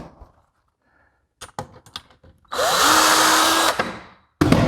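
A power drill drives two screws into a black iron pipe handrail, with brief bursts of clicks and handling before a loud, steady whirring run that stops sharply, then restarts, close up.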